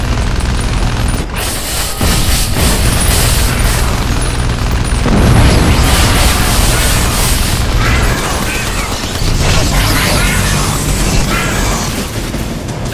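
A shredder gun in the video game Iron Brigade blasts scrap off tubes, a loud continuous barrage of rapid bursts and booms with mechanical clatter.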